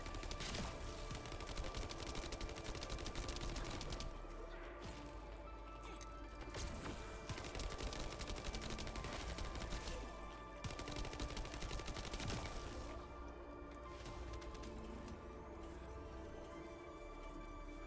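Shotgun fire in the video game The First Descendant, bursts of blasts and crashing impacts running through the whole stretch, with brief lulls between volleys and faint voices now and then.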